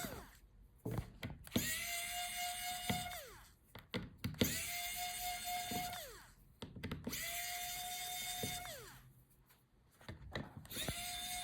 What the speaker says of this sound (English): So take out the hinge screws.